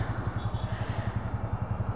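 A TVS Ronin 225 motorcycle exhaust burbles at low RPM with an even, rapid thumping pulse, fairly quiet and steady, with no voices.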